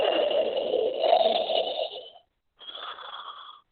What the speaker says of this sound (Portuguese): Logo começaram a roncar bem alto.